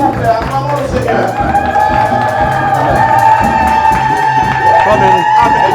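A church congregation cheers and acclaims the Lord in a loud, sustained crowd roar with shouts and claps, mixed with music and voices speaking over it.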